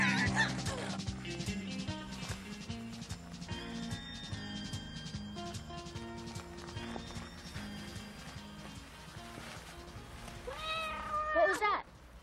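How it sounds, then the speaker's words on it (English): A cat meows a few times near the end of a scene from a 1985 sci-fi comedy film, with rising and falling cries heard over steady background music. "What was that? Oh, just a cat."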